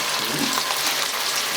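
Ground meat for a homemade hamburger sizzles in a hot pan, a steady, close hiss and crackle with no pauses.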